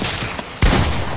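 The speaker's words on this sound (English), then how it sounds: "It was a Nerf gun." A Fortnite-style Nerf TAC blaster fires once with a sharp, loud thunk midway, standing out over a steady background rush.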